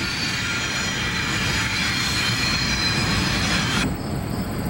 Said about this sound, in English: Conrail number 6021, a C39-8, heads a southbound train near the Federal number 2 mine